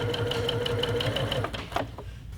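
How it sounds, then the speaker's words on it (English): Home sewing machine stitching a fat-quarter drawstring bag with 50-weight Aurifil cotton thread, a steady rapid whirring chatter running close and loud for about a second and a half, then slowing and stopping with a few faint clicks. "Stitching."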